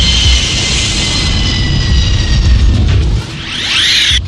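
An Air France Concorde's jet engines roar loudly during takeoff, a sustained heavy rumble with a high whining tone that shifts near the end, close and without speech.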